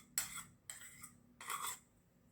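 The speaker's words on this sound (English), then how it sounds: "So let us beat the curds now" Curds beaten with the back of a spoon in a mixing bowl, giving three bursts of scraping and clinking strokes, near and fairly soft, with short pauses between them and no talk.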